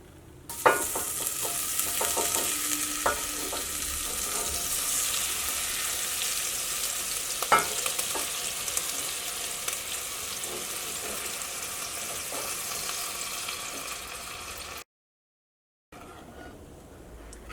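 Butter melts in a heavy pan with a continuous crackling sizzle and light stirring scrapes, then the sound cuts out briefly near the end. There is no speech.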